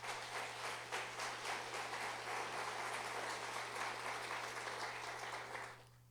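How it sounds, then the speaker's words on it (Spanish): A church congregation applauding at a Spanish-language sermon, dense continuous clapping heard from a distance over a steady low hum, fading at the end. "Denle un fuerte aplauso al Señor."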